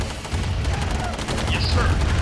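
Gun turrets fire in Command and Conquer Remastered, a GDI mission battle: dense, continuous rattling bursts of gunfire layered over a rumbling low battle din, with a few higher tonal effects near the end.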